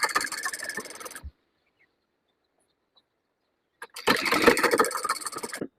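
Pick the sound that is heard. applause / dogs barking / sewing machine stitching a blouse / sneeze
sewing machine stitching a blouse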